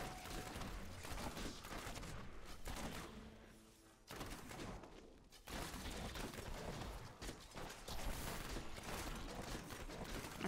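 A Diablo III Demon Hunter's Multishot attacks fire in a dense, relentless volley of rattling bursts and impacts, continuous and loud with a few brief dips, no voices over the barrage.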